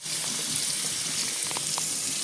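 Running water rinses the stone of a wet grinder used for adai and bajra idli dosa batter, a steady loud splashing gush with faint knocks, continuous and close with no talking.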